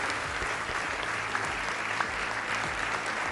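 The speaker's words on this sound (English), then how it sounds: "Emotional moment, as shown by everyone on their feet applauding Diogo's parents." Sustained standing applause from a large audience at a football awards ceremony, dense, even clapping filling the room throughout.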